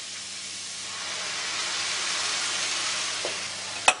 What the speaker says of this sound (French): Et là, j'ajoute le cognac.